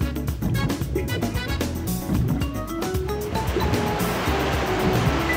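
Continuous rushing water and surf-like wash in Sonic Adventure 2, a steady loud churn with wave-like swells, layered under busy game music and effects, with no pause.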